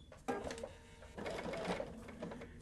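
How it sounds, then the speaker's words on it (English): Sewing machine stitching a quilt block's join line in fabric, running in a fast, steady mechanical rattle with a brief pause midway, close and alone without talk. "So I'm going to take it to the sewing machine, and I'm going to start working on our join line."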